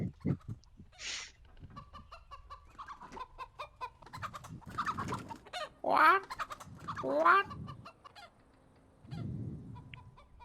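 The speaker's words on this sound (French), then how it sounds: "Il a tué ma poule." Chickens cluck inside the CSGO game, with several distinct bursts of clucking and squawking spaced through the clip between gunfire-like clicks, while players talk and joke over the top.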